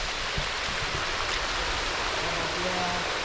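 A hidden waterfall at Zirad, where water collects in a knee-deep pool, gives off a steady, dense rush of falling water that fills the scene, with a few faint low thumps and no clear speech.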